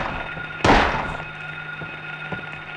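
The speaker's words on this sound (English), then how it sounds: "I should probably stop shooting everything that I" A single sharp gunshot in the Silent Hill video game, loud and abrupt with a short decaying tail, followed by a faint thump and a quiet low hum of game ambience.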